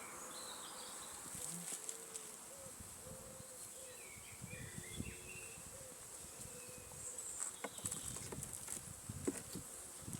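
Honey bees buzz steadily in a hive, a soft continuous drone with scattered faint clicks and rustles, heard close and without talking.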